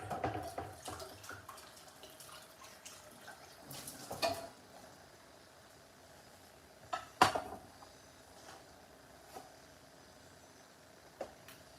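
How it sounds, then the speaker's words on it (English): Tap water runs and splashes while a pot is rinsed in a kitchen sink, a low steady trickle broken by occasional clanks of the pot and sharp bursts of spray. "So let's rinse all this pot."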